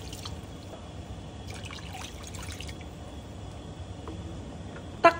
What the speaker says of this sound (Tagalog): Ibuhos ng tubig at hayaang kumulo.